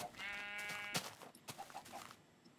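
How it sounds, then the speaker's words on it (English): A sheep in the video game Minecraft gives a short, clear, wavering bleat, fairly quiet and close, followed by a few soft clicks. "Okay, you're right, sheep."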